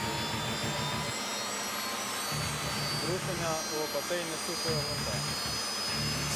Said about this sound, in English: Starter operating. Compressor speed increasing.